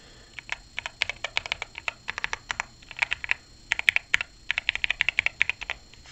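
Close, crisp keystrokes on an EK21 mechanical number pad, a rapid irregular run of clicky taps with short pauses, heard alone with no talking.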